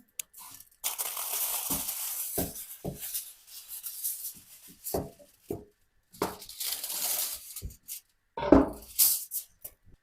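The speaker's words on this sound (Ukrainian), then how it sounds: "Беру фольгу, викладаю посередині часник і цибулину" Aluminium foil crinkles and crumples in repeated bursts, close and clear, while being laid out for garlic and onion. Quiet gaps separate the bursts, and a small clink comes near the end.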